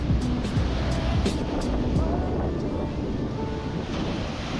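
Ocean surf rolls in steadily at Playa del Carmen beach on a windy day, a continuous wash of waves with wind buffeting the microphone throughout and no voices.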